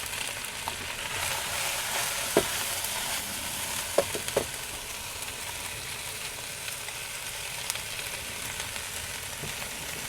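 Chicken with blanched broccoli and cauliflower stir-fries in a pan with a constant low sizzle, and a handful of sharp utensil clicks and scrapes sound near the middle.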